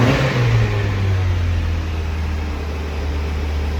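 A sports car engine with a repaired exhaust idles steadily with a deep, smooth low rumble, close and continuous, without rasp or rattle.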